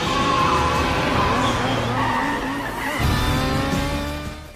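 Vehicles in a high-speed motorcycle chase swerve around traffic, engines whining and tires squealing and skidding loudly throughout, the roar easing toward the end.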